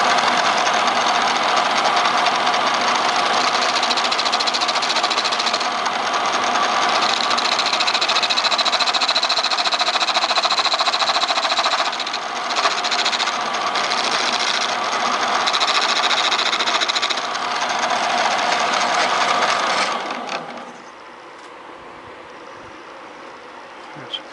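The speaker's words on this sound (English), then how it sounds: "I think I can push that down with the skew without the chatter" Wood lathe spinning a hibiscus vase blank while a skew chisel cuts it, a loud steady whirring hum that holds for about twenty seconds and then drops off to a quieter tail, with no talk.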